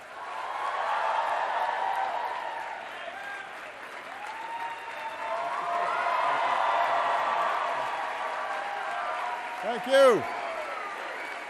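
Audience at Stanford University applauding in welcome of the president, sustained clapping that swells and fades over several seconds, with a brief spoken thanks near the end.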